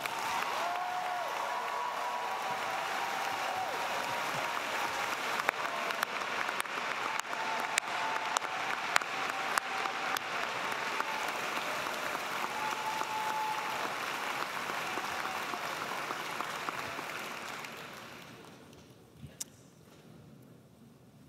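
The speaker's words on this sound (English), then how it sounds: "I would like everybody in the house to applaud this amazing group." Sustained applause from a large commencement audience honoring faculty at a graduate school of education ceremony, even and fairly distant for most of its length before tapering off into near quiet at the end.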